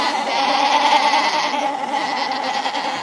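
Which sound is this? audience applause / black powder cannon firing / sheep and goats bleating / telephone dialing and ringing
sheep and goats bleating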